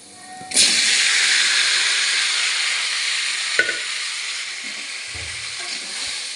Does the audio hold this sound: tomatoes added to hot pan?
yes